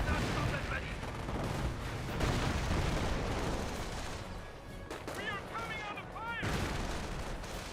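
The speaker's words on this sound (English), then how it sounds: "Grenades been thrown there." Grenade blasts and gunfire in Company of Heroes, a dense barrage of booming explosions and rattling shots throughout, with a commentator talking over them.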